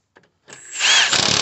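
A power tool snaps on and tightens a bolt on a car's suspension during a mobile mechanic job, rising into a loud, close, steady whir with a rapid rattling pulse.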